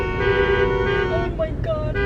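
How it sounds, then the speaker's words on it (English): Car horns honk in traffic, with steady horizontal tones running through most of the two seconds and shorter blasts near the end over road noise. "They're honking at us."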